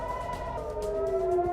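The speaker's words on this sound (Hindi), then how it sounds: "हमले के वक्त किसारिया एयर रेड अलर्ट सायरन बजने से अफरा तफरी मच गई।" An air raid alert siren wails over the coastal Israeli town of Caesarea during a Hezbollah rocket attack, a loud sustained tone slowly falling in pitch with a steady drone beneath.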